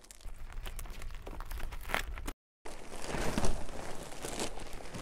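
A safety knife slicing through the plastic wrapping of a vacuum-packed Irish-made pocket sprung mattress gives close, steady crinkling and tearing rustles, broken by a brief silent gap before the plastic noise resumes a little louder.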